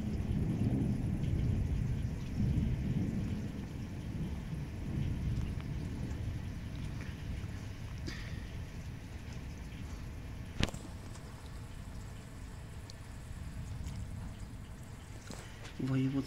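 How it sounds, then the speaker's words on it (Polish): Summer thunderstorm in Chełm, Poland, heavy rain pouring steadily with a low rumble of thunder early on, plus scattered drips and a few sharp knocks. "mamy burzę w Chromie i deszcz zaczyna padać mocny"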